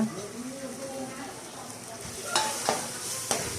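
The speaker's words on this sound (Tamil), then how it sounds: "எல்லா மசாலா பொடியும் சேர்த்து நல்லா நல்லா வதக்குங்க" Quail pieces with masala powder sautéing in a pan, a soft continuous sizzle with stirring and a few sharper scrapes of the spoon toward the end, fairly quiet.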